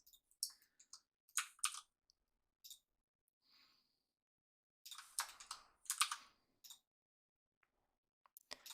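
Computer keyboard keys and mouse buttons click in short, irregular bursts during 3D modeling in Blender, close and crisp with quiet gaps between clusters of taps.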